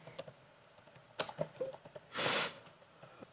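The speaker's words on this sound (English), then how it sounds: "Let's suppose I type this message" Quick bursts of key presses on a computer keyboard as a chat message is typed, irregular clicks clustered in short runs, close and fairly quiet, with a louder, longer clatter near the end.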